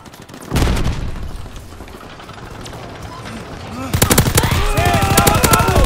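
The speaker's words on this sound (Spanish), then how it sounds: "¡Sigan disparando!" Loud WW2-era gunfire from a first-person shooter game: dense, rattling automatic bursts with heavy booms. It intensifies sharply about halfway through, while voices shout over the battle.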